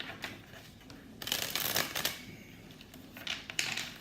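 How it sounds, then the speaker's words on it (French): Tarot cards being shuffled in a few soft riffling bursts, close and quiet, with a stronger flurry midway and short shuffles near the end. "J'ai déjà bien mélangé les cartes."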